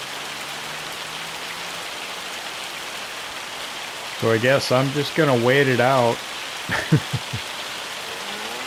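Hail storm in the farming game Farming Simulator 25, a constant hiss of pelting ice and rain throughout, with someone talking briefly over it midway.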